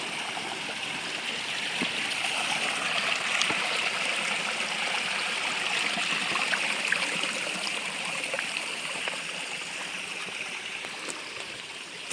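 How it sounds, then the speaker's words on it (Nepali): Water gushes from a full 20 mm pipe at a stream intake, a steady hissing rush that stays even and continuous, close up with no voices. "यत्रो पानी छ है, लगभग 20 mm पाइपको फुल छ पानीको भोल्युम है"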